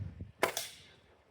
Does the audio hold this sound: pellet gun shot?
yes